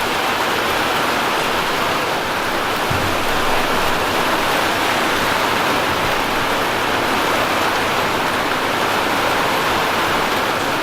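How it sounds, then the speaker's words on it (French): Water pours onto a roof sprayed with cork insulation, a loud, dense and constant rushing hiss that holds unchanged throughout, heard from close by with no voices. "Regarde tout ce qui pleut."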